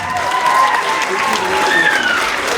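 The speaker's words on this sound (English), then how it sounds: "All right, let's give a round of applause for our 6th graders." At a school move-up day ceremony, an audience claps for sixth graders: a short, loud burst of crowd applause with scattered cheers and hoots on top.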